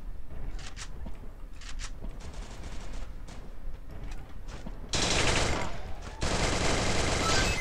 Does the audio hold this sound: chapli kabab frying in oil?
no